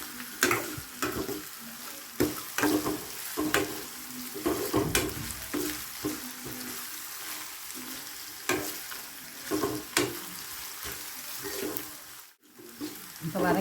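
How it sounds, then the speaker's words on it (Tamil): Onions sautéing in a pan for horse gram kadayal, with a steady frying sizzle and repeated scraping stir strokes, close and fairly loud, running throughout with a brief pause near the end. "நல்லா அந்த வெங்காயம் நல்லா வதங்கும்"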